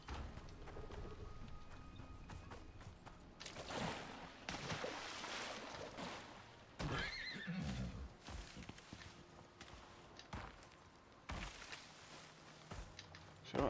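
Horse hooves in the survival video game Icarus, uneven clopping footsteps mixed with other game sounds and ambience, fairly quiet and with no talking.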